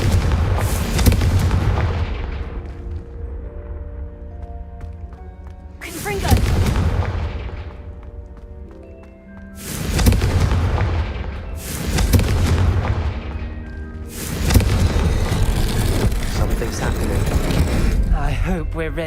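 Spell blasts from the Confringo fire curse in Hogwarts Legacy burst out in four or five loud, booming explosions spaced a few seconds apart, each with a sharp onset and a rumbling tail, over a droning game backdrop with a voice in between.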